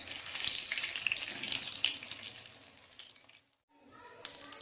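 Chicken burger patties fry in hot oil with a steady, close sizzle and crackle that drops out briefly near the end and then resumes.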